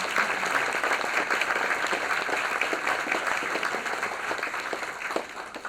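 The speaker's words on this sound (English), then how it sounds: "Let's give them a round of applause for their work." A full room claps for participants at a university venture competition final, dense and sustained applause at close range, individual claps crackling through the wash before it thins slightly near the end.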